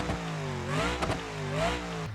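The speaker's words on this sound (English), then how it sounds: "So the default Afterfire sounds that they give you are this." Default engine afterfire in the BeamNG.drive driving game, heard as a revving engine with a few quick popping crackles over the drone, close and steady, with no voices.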